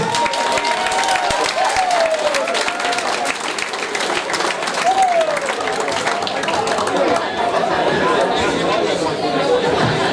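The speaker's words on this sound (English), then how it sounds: "Round of applause, ladies and gentlemen, please." Audience at an amateur charity boxing event claps and cheers, a loud mass of applause mixed with crowd chatter and a voice over a PA.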